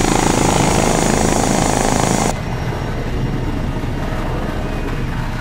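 Helicopter in a military video game thunders with a loud, dense rotor and engine roar that drops abruptly partway through to a duller, muffled drone.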